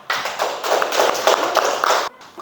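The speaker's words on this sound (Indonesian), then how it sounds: "Tepuk tangan." Brief burst of group applause in a classroom after a student team presentation, several people clapping in a quick patter for about two seconds before it cuts off abruptly.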